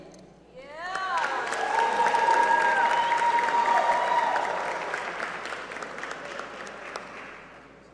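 An audience at an engineering ceremony applauds aerospace engineering majors, steady clapping and some cheering swelling and then easing, with voices and a sustained tonal sound over the crowd.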